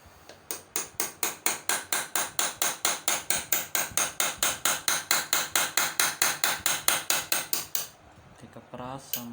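Hammer tapping a flat chisel against metal during engraving repair work on a leaf motif, a steady rapid series of about thirty close, bright metallic taps, then a pause and a scraping sound.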